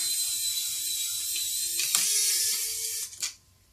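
A Kaiweets ES20 electric precision screwdriver drives hard screws, a steady high-pitched motor whir that strains and shifts tone midway, then cuts off with a short final burst near the end, close and alone.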